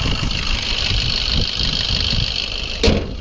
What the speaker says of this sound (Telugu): ఇంజన్ సౌండ్ చూపించాను